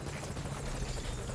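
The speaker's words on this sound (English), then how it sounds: "the helicopter's already arrived and we are good" A helicopter arrives in the game Metal Gear Solid V: Ground Zeroes, its steady, close rotor drone and engine roar filling the whole moment with no talking.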